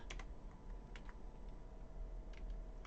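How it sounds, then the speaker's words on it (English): Computer keyboard keys clatter in a steady run of quick, close taps over a low background hum while a schematic is filled in, with no talking. "We are typing here our name, your name, and I'm typing here class."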